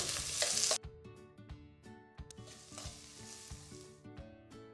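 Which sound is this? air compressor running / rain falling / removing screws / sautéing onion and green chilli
sautéing onion and green chilli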